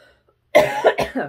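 A short burst of harsh, close coughing, three or four rapid hacks in a row after a moment of quiet.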